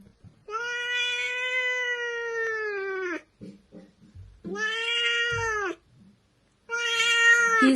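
An angry pet cat lets out three long, loud, drawn-out meows close by, harsh and wailing, with short pauses and faint handling noises between them.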